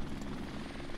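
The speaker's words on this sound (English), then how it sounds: "Oh wow, there goes my helicopter." A helicopter in a video game thumps with a steady rotor chop, a brief rumbling passage at moderate level with no talk over it.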